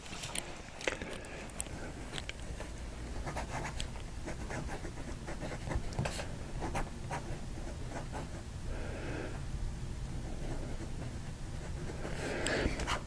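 An extra fine nib on a Pilot Kakuno fountain pen scratches lightly across paper in short strokes and pauses, faint and close.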